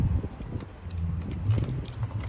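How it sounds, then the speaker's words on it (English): A spare set of keys for Harley-Davidson Softail saddlebag locks jangles up close in a steady metallic rattle for a couple of seconds, with no talk over it. "they give you 2 sets of keys"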